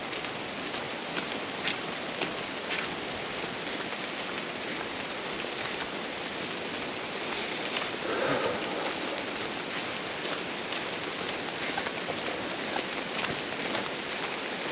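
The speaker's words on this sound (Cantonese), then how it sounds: "因為而家落住微微細雨。" Light rain falls steadily in the Oirase stream forest on a quiet early morning, a soft, even wash of patter on leaves and surfaces, close and continuous with no voices.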